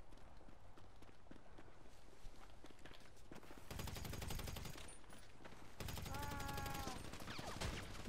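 Video game gunfire in a deathwatch match, bursts of rapid shots mixed with hoofbeat-like clatter, fairly faint and dense, with a brief voice.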